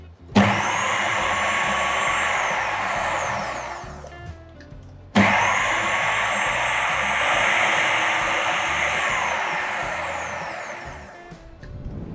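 Food processor whirring through almonds in two long bursts with a brief pause between, a loud, steady motor drone that cuts off sharply each time, with no voices.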